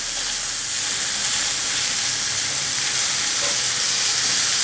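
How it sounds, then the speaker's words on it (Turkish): About 200 grams of minced meat fries in a hot pan while being pressed and stirred, giving a loud, continuous close sizzle and hiss. "200 gram kadar kıymayı tavaya koydum. Ezerek kavuruyorum."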